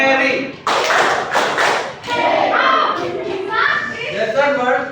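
Children in a classroom game clap their hands and pat a wall in a brief burst of sharp, overlapping slaps and thuds, with young voices chattering throughout.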